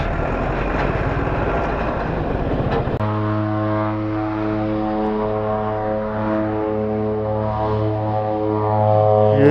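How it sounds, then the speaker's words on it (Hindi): A propeller airplane lands at a mountain airport with a loud, steady engine drone and a strong harmonic hum that holds and swells toward the end. "ये देखिए फ्लाइट लैंड कर रही है।"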